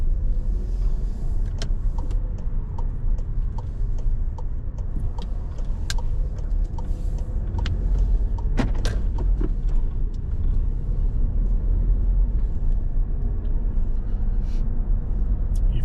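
A car engine idles and then pulls away, a low steady rumble with a few light clicks and mechanical noises over it, fairly quiet and close.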